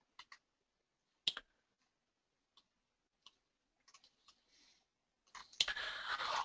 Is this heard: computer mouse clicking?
yes